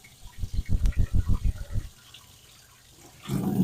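Canister filter sponges from an aquarium squeezed and rinsed under running water, a rapid series of about eight wet squelching pulses, then a quieter pause before a steady gush of tap water resumes, close by.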